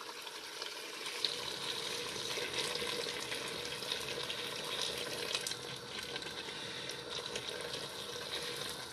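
Water poured into a cooking pot of simmering vegetable tajine with peppers, potatoes and chickpeas, a steady broadband splashing and sizzling wash that stays close and loud throughout, with no talking.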